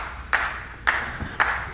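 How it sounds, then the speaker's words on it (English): Three sharp, evenly spaced hand claps, each ringing briefly with a bright echo, close and moderately loud, with no voice. "what really caught me off guard is when he came clapping like this"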